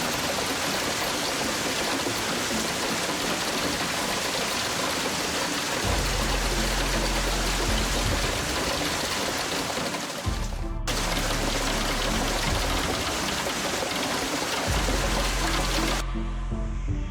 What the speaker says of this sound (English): normal hailstorm quickly intensified with strong winds, lightning, and trees being torn down